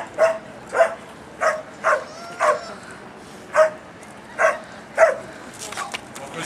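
A police dog barks repeatedly in a steady rhythm during a simulated check demonstration, about ten sharp barks close by, with some whining mixed in.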